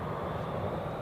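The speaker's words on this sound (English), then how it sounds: "the A340 is taxiing to the gate" Low, steady engine rumble of an Airbus A340 airliner taxiing at Zurich Airport in the evening, a continuous drone heard from a distance without talk.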